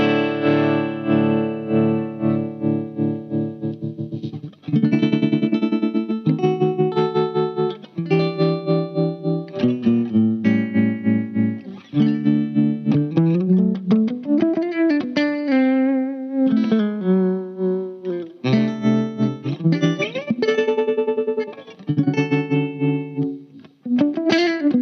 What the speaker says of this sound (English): this controls the speed now of the tremolo, of this Moog tremolo